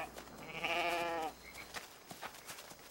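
A single drawn-out goat bleat, wavering and nasal, rises close by, followed by quiet rustling and soft clicks.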